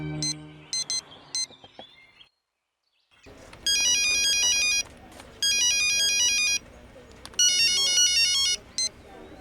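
An electronic telephone ringtone in a Hindi comedy film chirps in three loud, regular bursts. Before the ringing, brief beeps and faint indistinct background noise give way to a short silence.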